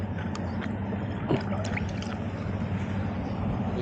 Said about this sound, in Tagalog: malakas na yung daloy ng tubig